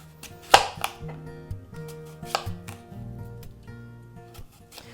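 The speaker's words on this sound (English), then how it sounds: "So you'll begin by starting to cut around the core of all the apples." A knife cuts around apple cores on a board, with a handful of sharp, separate chopping taps spaced unevenly over a quiet background, one louder knock near the start.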